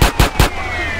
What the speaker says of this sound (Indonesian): ambulan ditembakin sama polisi guys